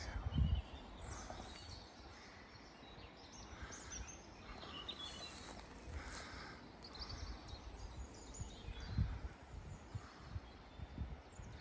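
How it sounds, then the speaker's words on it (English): Faint birdsong outdoors, scattered chirps over a steady rustling breeze, with a couple of soft low thumps. "Birds singing."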